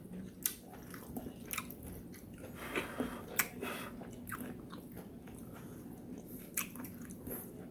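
Someone chewing steamed napa cabbage with pork belly, soft wet squishes and occasional crisp bites in an irregular rhythm, close to the mic and quiet.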